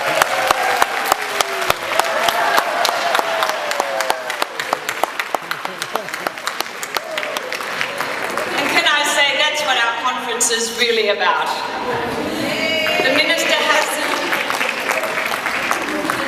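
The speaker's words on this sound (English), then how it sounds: "Let's give a big hand of applause for Robert." Sustained audience applause for Robert at a conference plenary, loud, dense clapping from a large hall that continues steadily and partly under a speaker talking over it later.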